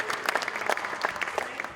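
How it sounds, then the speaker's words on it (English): Cautious, scattered applause at a Sheffield local election count as Labour made gains, a short patter of separate claps close by with no talk. "over in Sheffield, cautious applause from the Labour MP as the party made gains."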